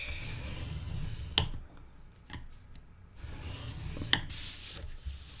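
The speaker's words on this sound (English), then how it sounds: "I'm going to score the long side at 1/2 inch." Paper is scored on a scoreboard for a handmade mini album: soft rubbing strokes and light scraping close by, with a couple of sharp taps and clicks between the passes, and no talk.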